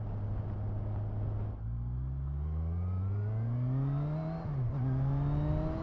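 A 2018 Kawasaki Z1000SX motorcycle engine revs past 7000 rpm. Its rising note climbs, drops briefly at a gear change, climbs again, then shifts once more, loud and steady without speech.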